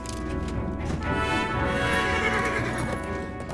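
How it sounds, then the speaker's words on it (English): A horse whinnies loudly while its hooves clip-clop steadily beneath the call, set against a dense, busy background in a historical Chinese war drama. "Somebody prepare my horse!"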